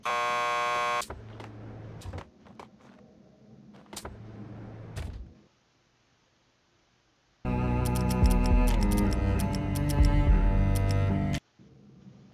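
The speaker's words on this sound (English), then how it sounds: "Just press the buzzer by the door." A door buzzer in the video game Max Payne 2 sounds as a loud, sustained electronic buzz, with shorter bursts and clicks around it and a brief silent gap before it.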